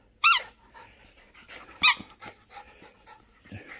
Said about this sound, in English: You got more energy than any YouTube dog.